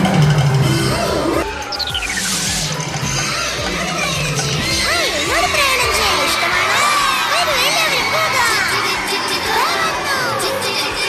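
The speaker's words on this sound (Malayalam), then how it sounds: "വലിയൊരു കയ്യടി കൊടുത്തുകൊണ്ട് നമുക്ക് ആ കുട്ടിയെ വേദിയിലേക്ക് ക്ഷണിക്കാം" Children shout and a crowd cheers loudly and continuously at a school Children's Day event, with whoops rising over a dense, sustained roar of young voices; no clear clapping stands out.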